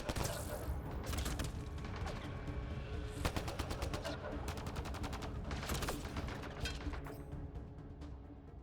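Rapid automatic gunfire from the video game Mass Effect Andromeda: sustained crackling bursts and sharp repeated shots in a loud, busy firefight, with a voice speaking over the shooting.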